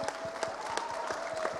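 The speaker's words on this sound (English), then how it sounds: "So come on, bigger round of applause." An audience in Jaipur claps for a speaker at a talk event, a short burst of steady, fairly even applause with rhythmic beats, heard from within the hall, a faint tone running underneath.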